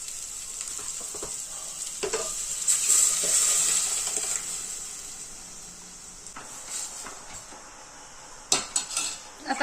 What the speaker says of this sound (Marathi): आता टाकून घ्यायची आहे भाजी.